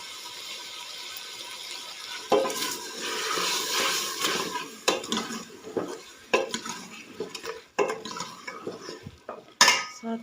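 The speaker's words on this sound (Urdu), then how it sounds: "ساتھ ساتھ چمچہ ہلاتی رہوں گی" A metal spoon scrapes and clinks against a pot while red chillies fry with small splashes of water, irregular knocks and stirring scrapes close up, with no talk.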